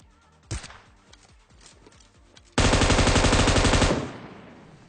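Gunfire in the PUBG video game: a single sharp shot followed by scattered fainter pops, then a loud sustained burst of rapid automatic fire lasting over a second before cutting off.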